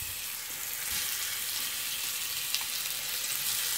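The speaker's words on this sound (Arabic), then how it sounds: "ودروك غادي نقليها، الزيت تاعي راه يتحمى فوالا، وغادي نحطها كامسا يعني تنحمرها غايه" Minced meat sizzling in hot oil in a pan, a steady close hiss of frying that continues evenly without voices.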